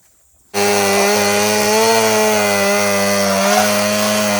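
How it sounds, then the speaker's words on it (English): A chainsaw starts abruptly and runs at a steady, loud, high-revving drone for several seconds while trimming wood on a livestock shed build, close by, with no voices. "just take a chainsaw, trim it out"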